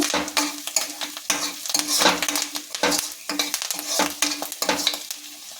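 Onions and curry leaves fry in a pan for a cluster beans fry, with a steady sizzle under rhythmic scraping strokes of a spoon stirring against the pan, close and fairly loud.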